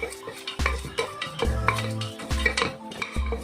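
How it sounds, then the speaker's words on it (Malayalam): A cinnamon piece, two cardamom pods, three cloves and a bay leaf are stirred in a pressure cooker for butter rice, with repeated close metallic scrapes and clinks of a spoon against the pot and faint sizzling underneath. "ഒരു കഷ്ണം പട്ട, പിന്നെ 2 ഏലക്കായി, 3 ഗ്രാമ്പു, ഒരു ബേ ലീഫ്, ഇതൊക്കെ ചേർത്തിട്ട് നന്നായിട്ടൊന്ന് വഴറ്റി കൊടുക്കാം."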